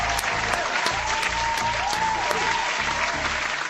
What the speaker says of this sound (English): Round of applause for my guy, Cam Canadian.